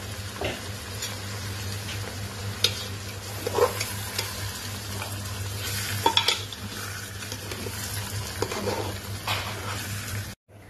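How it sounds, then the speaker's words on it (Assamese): Rice for chicken pulao sizzling in a hot pot while being stirred, with a steady fry hiss and occasional scraping clinks of a spoon against metal. "এতিয়া চাউলখিনি দি পেলাই ভাজিম"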